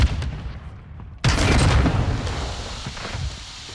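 Gunfire in a Call of Duty: Modern Warfare II battle at Al Bagra Fortress, with a loud burst starting about a second in and continuing as dense, rumbling shots over distant combat noise.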